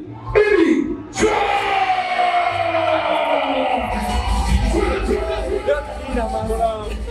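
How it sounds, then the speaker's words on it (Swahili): A large crowd in Dar es Salaam roars, cheers and applauds for the comedian Biggy. The noisy wall of yells and clapping begins abruptly and stays loud and sustained throughout. "makofi mengi sana kwa Biggy"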